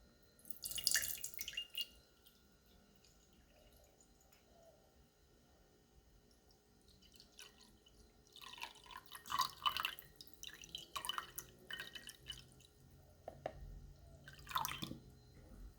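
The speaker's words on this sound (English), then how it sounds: "So we're going to pour the water into a separate container to make it a little bit easier to measure." Distilled water for cold- and hot-process castile soap making is poured into a separate container, heard as faint, intermittent trickling and dripping bursts against a quiet background.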